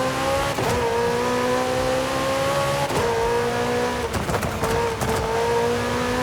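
A McLaren 765LT in Forza Horizon 5 roars and revs loudly, its exhaust note climbing in pitch and then dropping sharply at each gear shift, with several shifts in a row and no talking.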